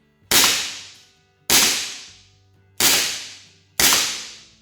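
Smith & Wesson Model 29 airgun revolver fired four times at a steady pace, each shot a sharp crack with a short decaying tail, close and alone.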